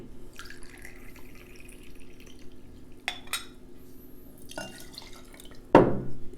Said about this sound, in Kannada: ಫಸ್ಟು ನಾನು 60 ml ಬಕಾರ್ಡಿನ ಹಾಕ್ಕೊಳ್ತಾ ಇದ್ದೀನಿ.